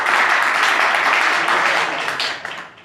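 A live audience at a Hindi-Urdu poetry reading breaks into loud, dense applause that fills the room, then gradually thins and fades near the end.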